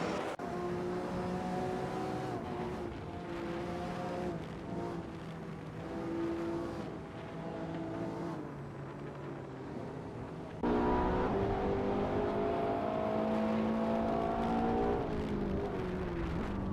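Race cars, including a McLaren, circle the Spa circuit in a hypercar racing game, their engines droning and shifting pitch in a continuous, fairly loud stream, with a sharper, louder engine surge taking over partway through.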